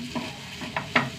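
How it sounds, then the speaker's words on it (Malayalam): Beaten eggs scrambling in a hot pan, a soft sizzle with a few scraping stirs of a spoon against the metal, close and fairly quiet, with no voices. "നന്നായി ചിക്കി എടുക്കുക."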